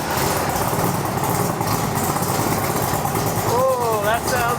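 A Superformance GT40 MKII's V8 idles with a steady low rumble, and people talk over the engine throughout.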